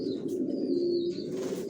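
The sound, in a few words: young racer pigeons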